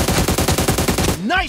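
Rapid automatic gunfire in a mobile shooter video game, a loud burst of about a dozen evenly spaced shots lasting just over a second, followed by a brief rising electronic sweep.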